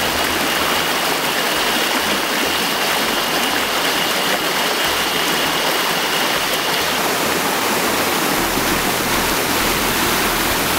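A clear forest stream rushes over many rocks, a loud, continuous, close broadband roar of flowing water with no other sounds.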